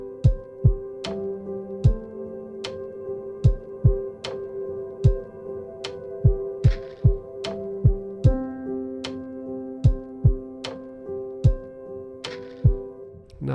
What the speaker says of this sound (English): Reverb's massive.